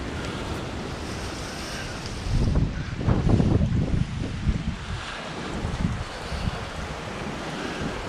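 Hurricane Ian winds in North Port, Florida, a continuous roaring rush that builds into stronger buffeting gusts in the middle, then settles back to a steady blow, with no talk.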